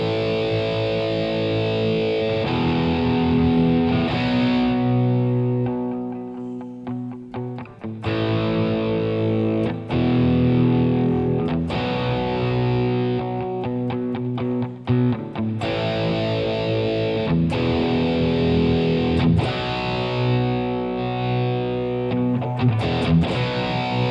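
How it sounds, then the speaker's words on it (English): Electric guitar with a distorted, effects-laden tone plays sustained chords and riffs continuously, loud and close with no talking. "God, I love the sound of this guitar."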